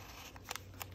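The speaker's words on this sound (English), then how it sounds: "I just utilized a paper edger to get something different here" A paper edger trims a sheet of paper while cards are crafted into a junk journal, giving quiet, brief snips and crisp clicks at close range with no voices.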